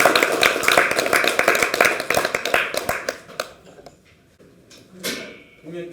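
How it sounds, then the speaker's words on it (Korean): Dense applause from attendees at a political party leadership meeting, loud rapid clapping that thins out and fades after a few seconds, followed by quieter room sounds. "큰 박수 부탁드립니다."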